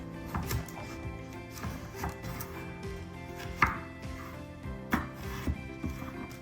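A knife cuts carrots diagonally on a board for chicken pot pie, producing a series of soft, irregular close taps and chops, fairly quiet, with a few sharper knocks mixed in.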